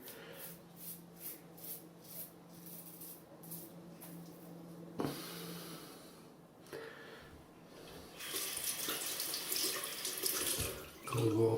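Cold water running from a bathroom tap for a wet shave, rinsing and splashing in the sink, intermittent then a fuller steady stream near the end.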